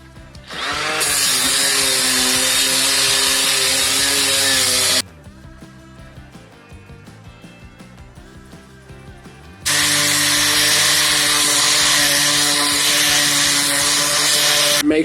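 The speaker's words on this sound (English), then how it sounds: "An easy way to do that is with 60 grit sandpaper. I'm going to do it with a machine here" A power sander fitted with 60 grit sandpaper grinds loudly over a rusted metal surface in two long bursts, broken by a quieter pause where the motor spins down before starting again.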